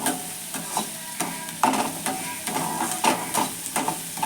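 Onions frying in oil in a pan, a close hissing sizzle punctuated by irregular scraping stirs and small clatters, steady throughout with no voices.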